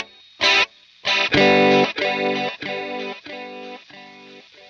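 Distorted electric guitar chords ring through a delay effect set to dotted-eighth repeats with slow modulation speed and high depth, each strum trailing rhythmic, wavering echoes, played alone.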